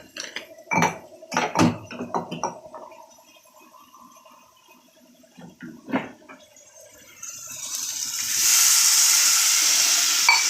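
Coconut palya frying in a pan: a few utensil clinks and scrapes, then water goes in and a broad, rising sizzle builds and holds loudly through the final seconds.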